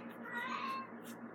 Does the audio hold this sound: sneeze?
no